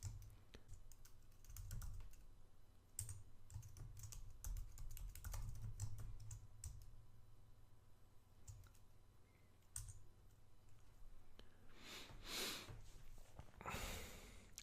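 Quiet, close keystrokes tap out a password on a computer keyboard at a Linux terminal, irregular clusters of clicks with a few sniffs and breaths, and a denser flurry of typing near the end.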